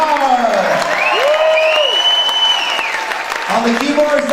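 Audience applause and cheering at a live benefit concert as band members are introduced, a dense steady wash of clapping with whoops throughout, while an announcer's voice rises and falls over the crowd noise.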